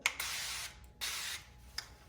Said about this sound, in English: It says to spray with cooking spray